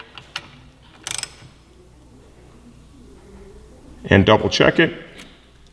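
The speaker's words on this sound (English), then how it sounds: "Put final torque on it." A torque wrench tightens a rearset bolt on a Yamaha YZF-R3, giving a short burst of close ratchet clicks and later a louder cluster of clicks, with someone talking in between.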